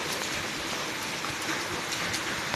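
Heavy rain pours down during a windy storm, a dense, continuous hiss of drops beating on surfaces at moderate loudness, with no talk and no break in the downpour.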